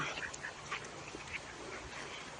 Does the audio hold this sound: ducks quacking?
yes